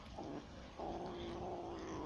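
Adult cats fighting growl and yowl in a low, sustained, drawn-out caterwaul that swells after a brief dip, heard faintly and with no talking.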